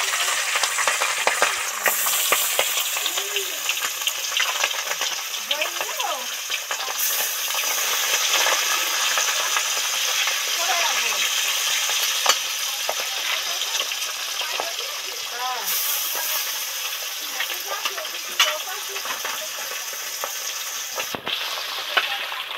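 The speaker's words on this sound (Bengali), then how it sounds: "তেলের মধ্যে একটা একটা মাছ ছেড়ে দিই।" Fish sliding one by one into hot oil for a Bengali bata fish curry, giving a steady close sizzle and crackle with bursts of spattering, while faint voices murmur underneath.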